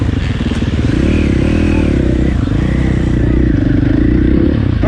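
A KTM 450SXF dirt bike rides laps at Crow Canyon with a loud, close, continuous four-stroke engine roar. The throttle rises and falls, with clattering chassis noise throughout.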